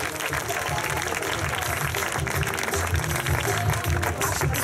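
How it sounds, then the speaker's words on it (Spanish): Audience at a bodybuilding contest giving steady applause, with crowd murmur and a low thumping of music underneath throughout. "¡Un fuerte aplauso!"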